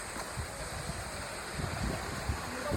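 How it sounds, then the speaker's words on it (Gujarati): Water pouring down from the mountain at Girnar near Junagadh, a steady broadband rush with low churning surges, continuous and fairly close, no voices. "આ બધું ગિરનારમાંથી પાણી પડે છે."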